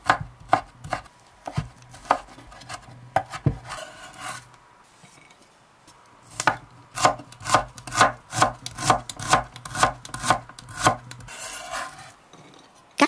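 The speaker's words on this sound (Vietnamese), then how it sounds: "Hành tím và tỏi thì mình đem bằm nhỏ ra." Knife blade chopping shallots and garlic on a wooden cutting board, rapid rhythmic knocks in bursts, close and crisp, with a pause in the middle before a steady run of strokes resumes.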